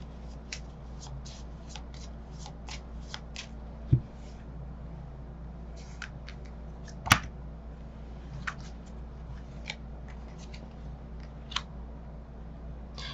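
Tarot cards being shuffled by hand before advice cards are drawn, a steady run of soft riffling flicks and card slaps with a few sharper taps, close and alone without talk.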